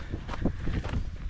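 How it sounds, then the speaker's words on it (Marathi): Steady wind rushing across an outdoor microphone on a Sahyadri mountain pass in Raigad, a broad continuous roar with gusty swells and no voices. "मस्त वारा येतोय"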